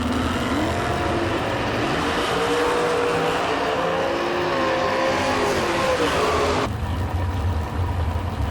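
A 2007 rear-engine dragster roars down the strip at a drag race, a loud sustained engine howl rising in pitch before the sound cuts off abruptly, leaving a duller rumble behind.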